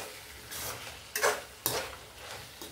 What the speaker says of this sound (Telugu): ఇంకా కొంచెం వేగాలండి. టమాటా ముక్కలు పూర్తిగా మగ్గిపోవాలండి.